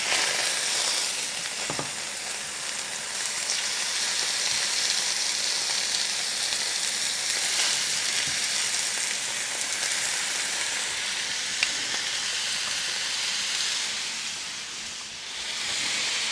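Jim Beam bourbon-glazed pork chops sizzle steadily in a hot pan just after being flipped, a loud, continuous frying hiss with faint stirring and clatter, no voices.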